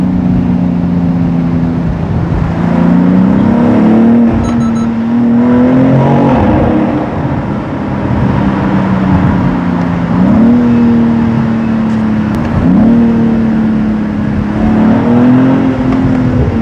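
A BMW X3 M Competition SUV, facelift model with a six-cylinder engine, drives through a tunnel. Its engine drones steadily and loud throughout, rising and falling through several gear changes and revs, with no voices.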